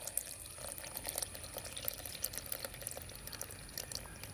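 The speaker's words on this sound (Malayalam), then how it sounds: "ഇനി നമ്മൾ ഇതിനകത്തേക്ക് ഒഴിക്കുന്നത് തണുത്ത പാലാണ് ഒഴിക്കുന്നത്." Cold milk pours into a blender jar holding dragon fruit, making a faint, continuous liquid trickle and splash with small bubbling spikes.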